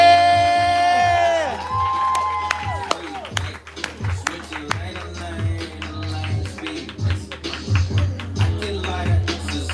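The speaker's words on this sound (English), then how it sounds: "Y'all give her a round of snaps, a round of claps" An audience claps and cheers for a poet at a live spoken-word show, dense clapping and crowd noise under sustained musical tones, continuing steadily throughout.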